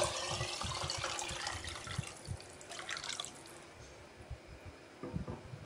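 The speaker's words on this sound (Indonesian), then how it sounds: "terus kita tambahin lagi air" Water is poured into a cooking pot of meat being boiled for broth, a close splashing, gurgling stream that is strongest at first and then tapers off into softer trickles.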